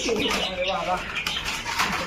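Maxi racer pigeons coo close by in short, throaty bursts, with a person talking over them.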